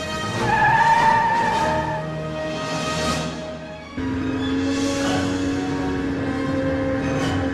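A car in a Back to the Future video game speeding along with a steady engine drone and drawn-out tire squeals, continuous and close throughout.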